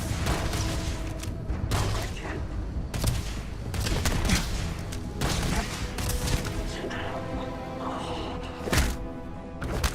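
Rapid pistol shots crack close and loud in a Starfield firefight, bursts of sharp reports with thuds and impacts between them, dense and repeated over ten seconds.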